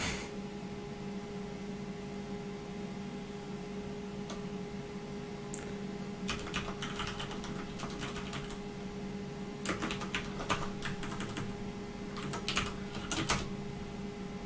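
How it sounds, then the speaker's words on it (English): Typing on a computer keyboard while debugging code, heard as irregular clusters of soft key clicks over a steady electrical hum, quiet and close, with no talking. "Typing"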